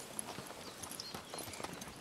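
Carriage horses clip-clopping on hard ground, a steady run of close hoof strikes, moderately loud and without talk, as a horse-drawn carriage stands ready to set off.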